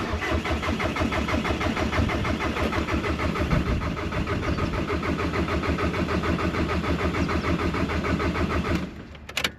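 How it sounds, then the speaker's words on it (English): A VW 1.9 TDI PD150 diesel engine fitted in a Honda Civic cranks close up with a continuous rhythmic starter churn that runs for about nine seconds without catching, then stops. "If it even turns over."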